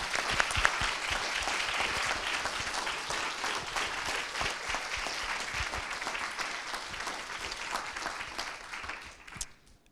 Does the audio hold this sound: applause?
yes